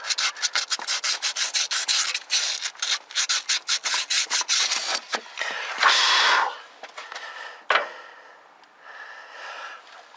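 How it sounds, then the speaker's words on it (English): Rapid rhythmic strokes of sandpaper rubbing the timing marks on a 1969 Lincoln Mark III engine, close and loud in bursts, easing into slower, scattered scrapes toward the end. "I'm going to try to just sand on them a little bit"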